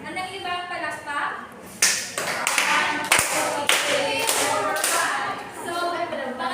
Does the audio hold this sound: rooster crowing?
no